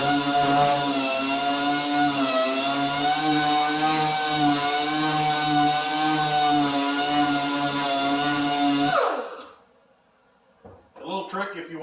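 A power sander working on a cabinet door, a loud steady whine with a constant pitch that runs for about nine seconds and then stops abruptly, followed by faint scraping and handling noises.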